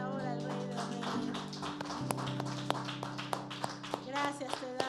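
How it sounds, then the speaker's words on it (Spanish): A church congregation at a Sunday service breaks into scattered applause in the second half, the claps growing sharper and more frequent near the end, over voices and sustained music. "¿Por qué no le da un fuerte aplauso en esta hora al Rey de Reyes?"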